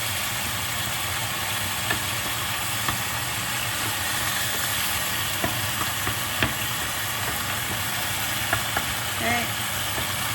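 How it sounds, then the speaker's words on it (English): Fish browning in a pan beside cooking shallot makes a steady, even frying hiss that runs throughout, with a few faint clicks and light clinks of utensils over it. "Fish can keep on browning on that side, and that's okay."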